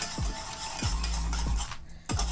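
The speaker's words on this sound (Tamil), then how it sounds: "2 கலரையும் கலந்து இதுக்குள்ளே செய்துட்ருக்கிறேன்" A utensil scrapes around a bowl while two colours of jelly mixture for falooda are stirred together, giving four evenly spaced strokes over a steady background hum, with no talk.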